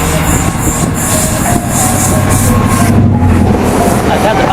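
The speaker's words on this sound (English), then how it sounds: "They're quite loud trains." A model railway train runs, a loud, steady rolling rumble with faint clicking and squeal running continuously, while people talk over it.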